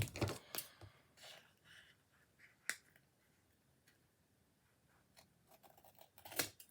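Scissors snip through paper card in a handful of sharp, close clicks and cuts, scattered irregularly with quiet gaps between them, soft overall and with no voices.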